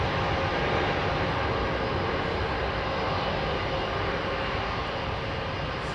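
A Swiss Airbus A220 airliner at London Heathrow gives a steady, loud broadband engine roar that holds even and unbroken for the whole stretch, with no talking.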